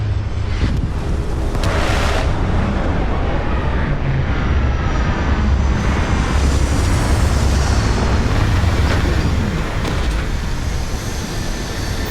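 A spaceship lands in the video game Starfield with a loud, continuous jet-like engine roar and broad rumbling that holds steady from start to finish, with no voices.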